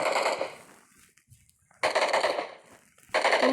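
Video game gunfire in three loud, close bursts of rapid automatic shots separated by short quiet gaps, with no talking.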